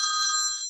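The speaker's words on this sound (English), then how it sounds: "Excuse my loud phone." A mobile phone rings loudly at close range, a bright tonal ringtone held steady before cutting off abruptly.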